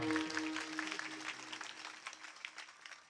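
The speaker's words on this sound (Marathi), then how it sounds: "एकदा गायक वादकसाठी जोरदार टाळ्या वाजवा" Steady applause from an audience at a kirtan performance, many hands clapping for the singers and musicians in a dense patter that stays fairly even, then thins slightly toward the end.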